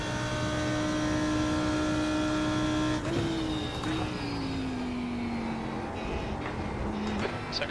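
A GT3 race car engine in iRacing holds a steady high drone, then shifts and revs with the pitch sliding gradually downward, loud and close, with a few clicks and thumps toward the end.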